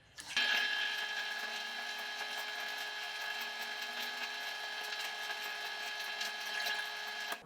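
A machine cutting corrosion from the water pump seal bore of a Honda Sabre V65 motorcycle, starting abruptly and holding a steady whining, grinding drone close by for several seconds, with no talk.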